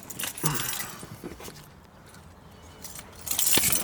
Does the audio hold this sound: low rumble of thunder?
no